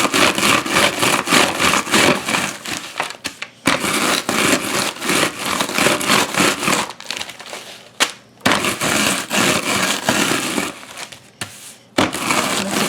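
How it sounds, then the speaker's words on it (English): Rolling pin crushing Hot Cheetos into crumbs, a loud, continuous crunching and grinding with rhythmic strokes, broken by a few brief pauses. "Just take a rolling pin and just roll"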